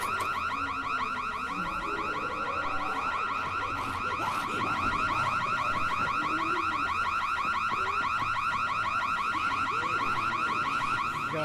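In the Dying Light video game, an alarm rings loud and steady, a continuous pulsing electronic tone that fills the whole stretch, with faint game sounds underneath.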